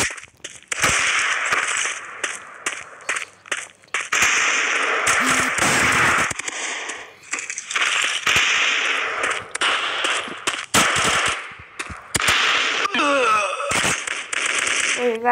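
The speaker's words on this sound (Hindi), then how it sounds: "उन्होंने ग्रेनेड मारा है" Grenade blasts and gunfire in the video game Mask Gun: loud, dense bursts of sharp cracks and bangs in rapid clusters, with brief gaps and a warbling tone near the end.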